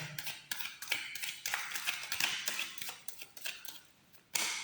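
A tarot card deck being shuffled by hand, giving rapid crisp riffling and tapping bursts in an irregular rhythm, close and clear, ending with a sharp louder slap of the cards.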